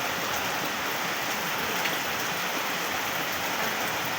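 Steady rain falling and pattering on surfaces, a dense even hiss with no voices.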